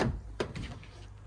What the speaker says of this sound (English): Pop open the near side rear door